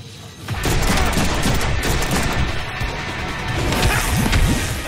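Dense, loud gunfire from the Deadpool video game, rapid overlapping shots and impacts crashing together in a continuous chaotic barrage for several seconds.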